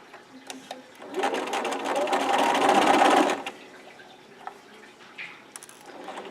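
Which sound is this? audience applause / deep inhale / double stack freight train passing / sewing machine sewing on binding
sewing machine sewing on binding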